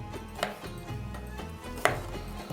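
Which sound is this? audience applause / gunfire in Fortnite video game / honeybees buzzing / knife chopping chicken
knife chopping chicken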